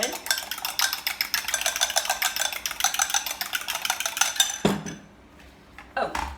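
A whisk beats scone mixture in a bowl with a quick, steady rhythm of scraping clicks for several seconds, then stops abruptly, leaving a quiet pause and a brief final knock.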